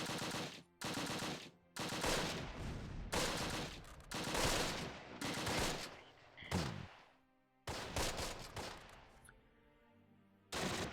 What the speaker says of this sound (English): Set up the MG there.